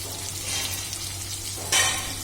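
Beef steaks sizzle in a frying pan, a close, steady crackling hiss with one brief louder flare of spitting near the end.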